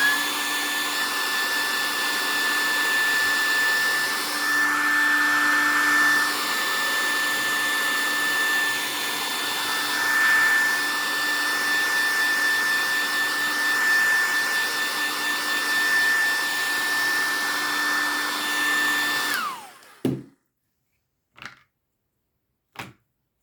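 A hair dryer roars steadily at close range for nearly twenty seconds, then cuts off, followed by a few sharp clicks.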